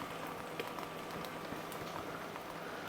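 Sausages sizzling in a frying pan, a dense, steady crackle and spatter with scattered louder pops, continuous throughout and close up.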